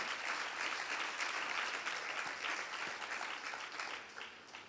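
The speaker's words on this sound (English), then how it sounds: "Could we have a round of applause for my next guest, Rodrigo Pessoa?" An audience at a horse breeders' panel applauds, a sustained round of clapping that swells and then gradually fades toward the end, heard at moderate distance without speech.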